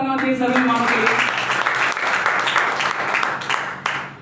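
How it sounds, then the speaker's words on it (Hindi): Loud, dense applause from a gathered audience welcoming first-time guests at a business leadership meeting, continuous broadband clapping that carries through the whole stretch, with a musical tone and voices fading at the start. "एक बार जोरदार तालियां चाहिए सभी मेहमानों के लिए।"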